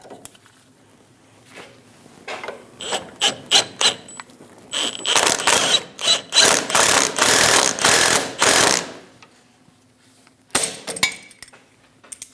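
A ratchet snugs down the sway bar link nut on a 2001-2006 Chevrolet Silverado 2500 HD, sounding as bursts of rapid close clicking strokes separated by short pauses.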